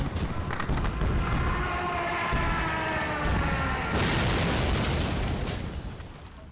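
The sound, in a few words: anti-aircraft gunfire shooting down a plane, from video game Men of War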